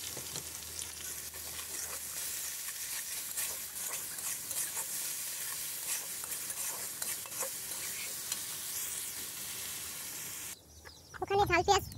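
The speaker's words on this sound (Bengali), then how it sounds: "ওখানে ঝাল পেঁয়াজ ভাজা হচ্ছে" Spicy onions frying in a pan, a soft continuous sizzle with light stirring scrapes; near the end it gives way to brief louder rustling and a voice.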